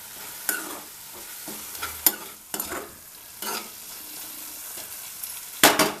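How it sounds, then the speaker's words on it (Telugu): Tomato pieces fry in a pan for a spicy Telangana-style chutney, with a soft steady sizzle broken by sharp scraping stirs and clatter of a spoon against the pan, close up and with no talk. "టమాటాలు ఫ్రై అయిపోతున్నాయి."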